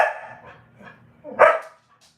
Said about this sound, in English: I have great dogs, but everybody has great dogs.